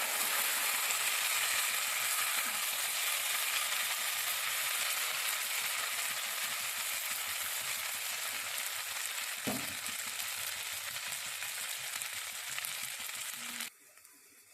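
Ground spice paste sautés in hot oil in a pan with a constant, close, bright sizzle, a single soft knock partway through, and an abrupt drop to quiet at the very end.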